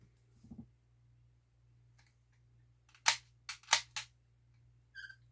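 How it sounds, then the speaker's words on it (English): A Golden Ranger lever-action toy cap gun is worked by hand: a few soft mechanical clicks, then a cluster of four sharp, bright cap pops in quick succession, followed by a faint later click. "Cap gun, and it pops up."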